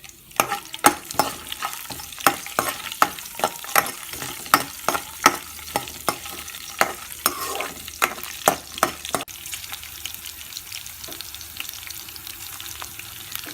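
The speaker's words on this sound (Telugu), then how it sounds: "ఇప్పుడు ఇవి ఎర్రగా వేగిన తర్వాత ఎండుమిరపకాయలు వేసి వేయించండి. పచ్చిమిర్చి కూడా వేయండి." Dried red chillies and green chillies fry in a pan of hot oil for pulihora, with steady sizzling and a regular series of scraping stirs that stop near the end, leaving only the sizzle.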